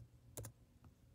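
A few quiet taps on a computer keyboard, with a double click close together and one fainter keystroke after, in a quiet room.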